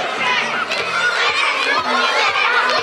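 A crowd of kindergarten children cheering and shouting at outdoor games, a dense continuous wash of young voices close by, with chatter mixed in.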